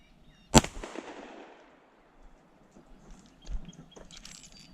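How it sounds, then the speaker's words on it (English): A single sharp pistol shot from a Fusion Firearms XP Pro 2011 cracks close and loud, trailing into a short decaying echo, followed by faint handling clicks and rustles. "Let's try shooting one without the mag in it to see if it extracts it."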